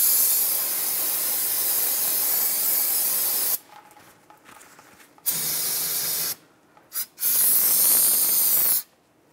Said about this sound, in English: Just going to spray it off with brake parts cleaner